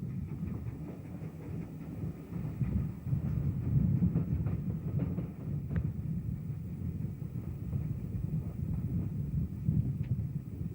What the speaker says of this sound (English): Loco number 1618 is one of the 4 preserved survivors of Maunsell's U-class.